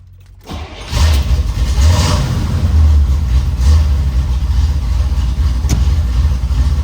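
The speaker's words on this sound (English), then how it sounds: "I am gonna fire this baby up" A carbureted engine in a 1973 Chevrolet Corvette convertible fires on a cold start: a quiet moment, then a sudden catch and a loud, throaty rumble settling into a lumpy, uneven idle with small revs.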